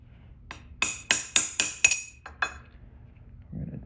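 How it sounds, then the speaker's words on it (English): Metallic taps from a socket extension drive a crank seal into the engine case of a 1979 Yamaha DT125, about eight sharp ringing clinks in quick succession, close, followed by a brief low shuffle. "we're going to take a socket extension here, and we're going to tippy tap this guy."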